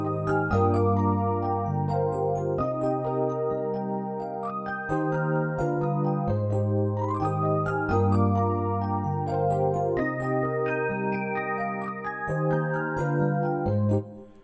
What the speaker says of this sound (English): we start with the E piano, which sounds like this.